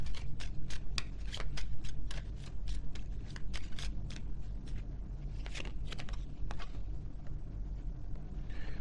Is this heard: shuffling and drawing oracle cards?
yes